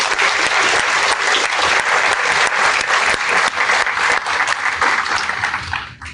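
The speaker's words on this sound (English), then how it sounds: "Let's give them one more round of applause." Loud, dense audience applause fills a military change of command ceremony, continuous clapping from a large crowd that holds steady and fades slightly at the end.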